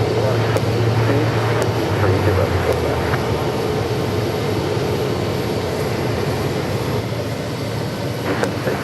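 American Airlines jet on flight 2665 from Phoenix to Fresno at Phoenix Sky Harbor Airport, a continuous rumbling engine roar holding steady throughout, with a voice talking faintly over it.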